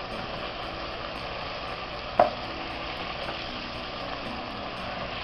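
Chicken with peppers and tomatoes simmers in a pan after water is added, giving a steady, soft sizzle and bubbling throughout, broken by one brief clink near the middle.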